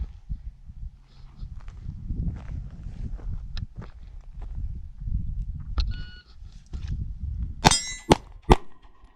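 During a shoot-and-move drill, sharp shots and metallic clangs ring out from steel targets, with a quick cluster of loud strikes near the end over background shuffling and movement.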